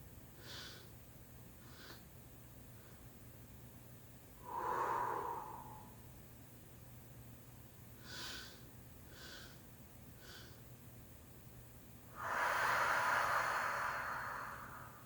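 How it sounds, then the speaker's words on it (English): Guided breathing during a spiritual clearing session: two slow, audible breaths, each an inhale drawn in and then released in a long, soft exhale, separated by quiet pauses with faint background hiss. "Breathing 1, 2, 3, and exhale."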